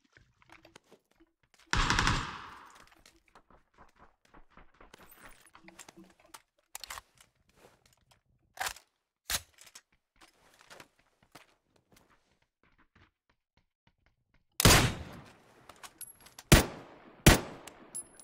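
Gunfire in the PC battle-royale game PUBG: scattered sharp shots, a few isolated cracks and quick pairs, with a louder burst early on and a cluster of loud shots near the end, between quieter stretches of faint movement.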